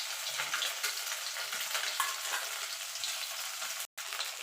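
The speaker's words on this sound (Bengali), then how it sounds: "দেখুন বন্ধু, ডিমগুলো ভাজা হয়ে গেছে, ডিমগুলো তুলে নেব" Eggs frying in hot oil for a spicy Bengali egg curry, a steady close crackling sizzle that holds throughout, briefly cut to silence near the end, with no voices.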